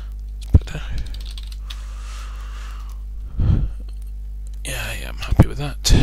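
Bursts of computer keyboard typing while setting up Gnome 3.12 on Ubuntu 14.10, clustered rapid clicks separated by quiet pauses and soft breathing, close and moderately loud.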